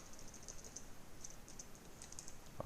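Someone types on a computer keyboard. A few light, scattered keystroke clicks sound fairly faint over a quiet background hiss, with no talking.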